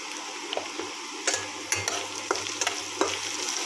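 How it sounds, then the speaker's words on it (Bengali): Vegetables for vegetable fried rice frying in a pan, a steady close sizzle broken by several sharp scrapes and clacks of a stirring spoon. "এবং সবজিগুলো মোটামুটি হাফ ভাজা হয়ে গেছে,"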